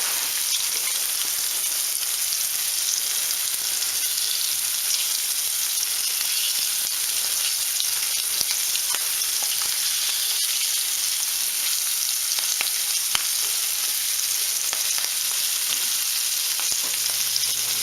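Fish in Shore Lunch Cajun style breading fries crisply in hot oil, giving a steady, close, even sizzle that runs without a break and with no talking.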